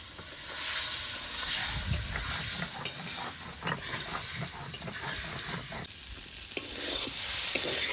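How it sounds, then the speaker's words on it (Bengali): Potatoes being stirred and sautéed with ground ginger-chilli paste in a pan for a Bengali rui fish curry with potato and eggplant: continuous close sizzling under irregular scraping stirs and occasional metallic clinks, no talk. "এবার নেড়ে চেড়ে আলুটাকে কষিয়ে নেব"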